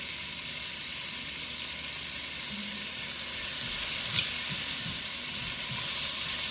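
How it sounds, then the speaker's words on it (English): Chicken browns in a pot for a one-pot chicken and rice meal, giving a constant loud hissing sizzle with faint pops and scrapes underneath, close and steady throughout, with no talking. "I'm going to brown this up for a few minutes and then I'm going to add the garlic."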